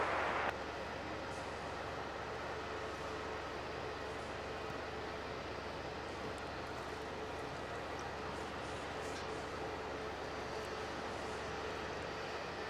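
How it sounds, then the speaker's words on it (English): A Jetstar Airbus A321neo arriving from Denpasar at Melbourne Airport gives a steady, distant jet roar that stays even and broadband throughout, with a brief louder burst at the very start. "this one coming in is Jetstar 32 from Denpasar with a 21 Neo"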